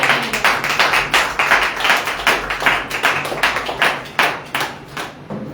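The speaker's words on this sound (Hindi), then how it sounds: "आइए जोरदार तालियां।" A church congregation at a Sunday praise and worship service claps loudly and rhythmically, close and energetic, with a steady pulse of hand claps rising and falling across several seconds and no talk over it.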